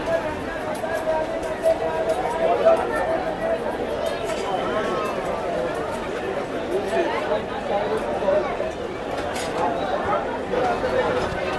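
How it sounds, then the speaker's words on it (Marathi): Steady, close hubbub from a busy crowd on Mohammed Ali Road in Mumbai: many indistinct voices overlap in a constant wash of chatter, with occasional clinks and brief shouts rising above it. "गर्दी बघा कसली आहे."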